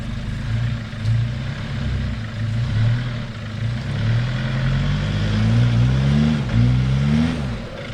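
A four-wheel-drive vehicle labours through soft muddy ruts on a desert border track, its engine revving up and down in repeated rising surges, loud and close, with no voices.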